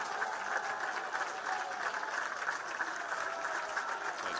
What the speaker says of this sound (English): both crowds standing at their feet applauding the players and certainly specifically the seniors